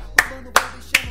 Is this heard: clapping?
yes